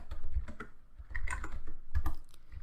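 Keys clatter on a computer keyboard as a command is typed into a console, a quick irregular run of close, crisp clicks in a quiet room with no talking.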